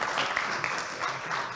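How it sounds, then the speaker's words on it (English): An audience at a conference event applauds, a steady wash of clapping from many hands lasting a moment. "Give him a round of applause."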